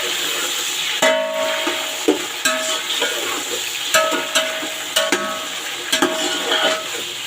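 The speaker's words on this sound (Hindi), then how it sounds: "इसको हम 1-2 मिनट तक फ्राई करेंगे" Chicken pieces frying in a pan with browned onions, green chilies and curry leaves, a steady loud sizzle broken by repeated clinks and scrapes of a spoon stirring against the metal, with no voices.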